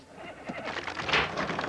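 A rodeo bucking horse gives a short, shaky whinny amid a noisy, reverberant arena background, fairly faint and partly masked by crowd and ambient clatter.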